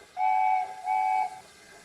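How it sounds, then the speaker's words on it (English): A steam locomotive whistle sounds twice, two clear sustained blasts, each about half a second long, heard at moderate distance. "they heard an unfamiliar whistle"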